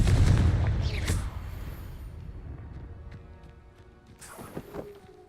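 Confringo fire spell cast in the Hogwarts Legacy video game, a heavy explosive boom that rolls off into a decaying rumble, followed by softer crackles and a second smaller impact burst.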